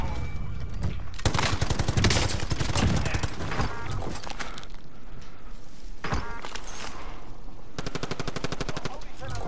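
Sustained LMG machine gun fire in Warzone, long rapid bursts of loud, close shots with brief pauses between strings of fire, under light game noise.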